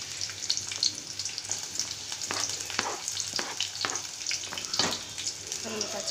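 Onions with cumin and mustard seeds fry in hot oil for semiya upma, a steady close sizzle broken by sharp crackles and pops of spluttering seeds, with faint stirring scrapes.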